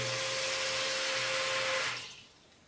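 Water streams from a push-button shower, a steady close hiss that runs for almost two seconds before cutting off and fading away, with a low electrical hum underneath.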